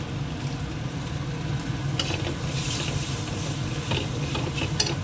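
Bengali-style spice masala sizzles steadily as it is stir-fried in a pan for a meatless kofta curry, with a constant close frying hiss and occasional scrapes and clinks of the spoon.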